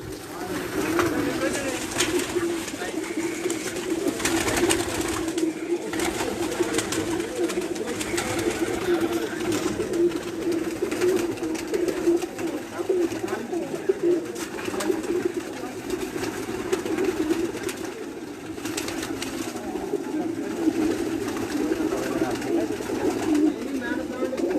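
Pigeons belonging to a champion pigeon keeper in Dina, Jhelum, cooing steadily and close by in a continuous low murmur that lasts throughout.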